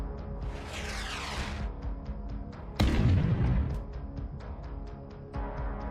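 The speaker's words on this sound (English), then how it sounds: "And then we saw 2 more explosions right after this." Battlefield explosions from a tank convoy engagement, heard as muffled, distant booms over a rough, noisy background. A sharp blast lands in the middle with a rumbling tail, and there are fainter thuds and crackles around it.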